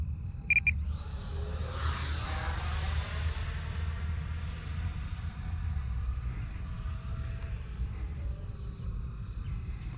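Small Arrows Marlin model jet on a wet runway, its engine giving a steady high whistle over a constant low rumble throughout, with a rising sweep early on.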